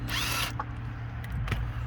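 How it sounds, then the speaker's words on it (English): Impact wrench with a 19 mm socket loosening a wheel on a 1990 Honda Civic wagon, one short loud burst of hammering whir lasting half a second, followed by quieter clicks and rattles in a garage. "Use the 19 socket and the impact wrench."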